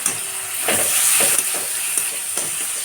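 Chopped tomato hits onions already frying in a pan for chana masala, giving a close, hissing sizzle with a burst of steam and a few scraping stirs.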